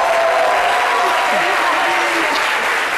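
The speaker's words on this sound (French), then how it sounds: "merci d'applaudir, Prissy." An audience claps and applauds for a guest being introduced on a French-language talk show, a dense, loud, sustained burst of clapping.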